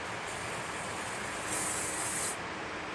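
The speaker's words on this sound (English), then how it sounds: "see if we get a bit of a spray for you." A steady hissing spray from an aerosol can of brake cleaner, with a brief stronger burst partway through, close and continuous.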